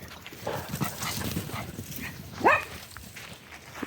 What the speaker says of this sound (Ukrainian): собаки, і собаки бігають